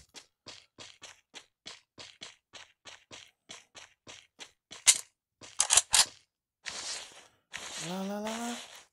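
Gunfire in the video game Free Fire: a rapid run of sharp, evenly spaced shots followed by a few louder bursts, then a rising synthetic tone and game effects toward the end.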